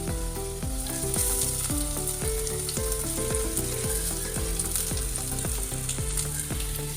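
Ginger-garlic paste frying with onions in hot oil gives a continuous sizzle throughout, alongside a steady melodic musical backing, with no talking.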